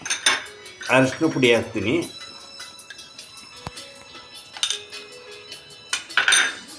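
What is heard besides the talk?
beating an egg in a bowl for fish fry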